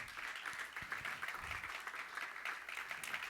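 Distant church congregation applause rolls on steadily, a soft, continuous patter of many hands clapping from far away.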